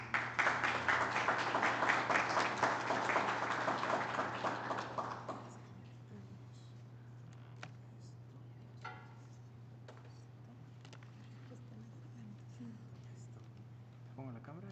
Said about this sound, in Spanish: Recibimos con un aplauso caluroso